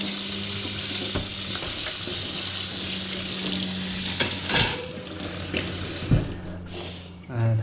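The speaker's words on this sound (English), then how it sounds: "I'm going to wash my knife." A kitchen tap runs steadily while a knife is washed in the sink during home cooking, the water a continuous hiss with clinks and knocks against the basin, and a short surge of louder splashing near the end.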